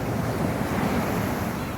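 Sea waves wash against the breakwater at Agoo, La Union in a steady, close roar, mixed with gusting wind on the microphone.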